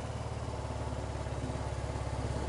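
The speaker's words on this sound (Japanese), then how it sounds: "今オンで、まあエンジンをかけましょう。" A KYMCO Racing S125 scooter engine runs at a steady, fast-pulsing idle, close and fairly quiet, with a regular rhythmic thrum and no voices over it.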